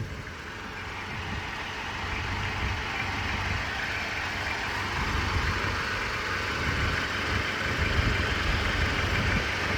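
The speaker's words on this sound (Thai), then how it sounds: "นิ่มนวลอยู่ครับผมเครื่องยนต์คูโบต้า4สูบ" Kubota four-cylinder diesel engine idling on a rice harvester, a steady close low rumble with a broad mechanical hum that holds evenly and swells slightly for the full length, no voices over it.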